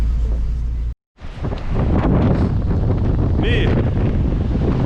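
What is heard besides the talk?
strong wind while kitesurfing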